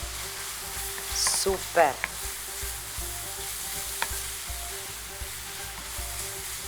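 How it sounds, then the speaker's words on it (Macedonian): Onion frying in hot oil while being stirred, a steady close sizzle with occasional scraping and clinks of the utensil in the pan; a brief spoken exclamation occurs early. "Промешувам, така малку да го фати врелото масло и лукчето."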